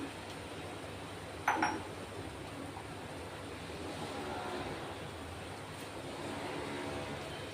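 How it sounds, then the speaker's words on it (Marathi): Water at a rolling boil in a pot before wheat-flour vermicelli goes in: a soft, steady bubbling hiss with one brief clink near the start. "हे बघा, पाणी मस्त उकळतंय"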